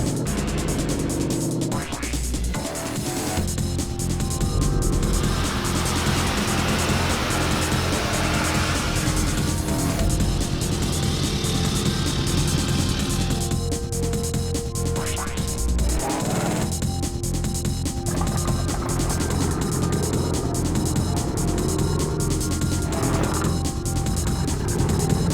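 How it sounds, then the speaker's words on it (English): A low-geared off-road four-wheel-drive vehicle crawls along at idle, its engine a steady, loud rumble mixed with constant road and wind noise throughout. "I like to be as mechanically sympathetic as I can on the car by letting it idle"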